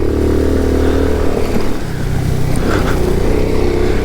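Moped engine revving hard and steady while riding a motocross track, loud and close throughout with rising and falling pitch.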